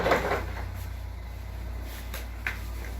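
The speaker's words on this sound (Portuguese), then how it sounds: "vou abrir uma porta que está batendo com vento" A door that has been banging in the wind is handled indoors, giving a few soft knocks and clicks over a low steady hum, faint and close, with no talking.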